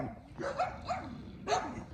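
A pit bull barks in a few short, muffled woofs spaced about half a second apart, moderately loud against a noisy background.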